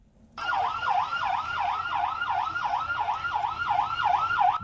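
Loud wailing police sirens rise and fall in a steady, rapid cycle as crowds gather along the roadside, continuing without a break over a low rumble of traffic.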